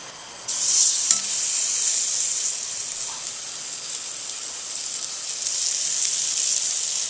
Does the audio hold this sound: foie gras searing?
yes